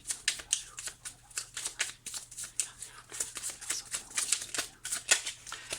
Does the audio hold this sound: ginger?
no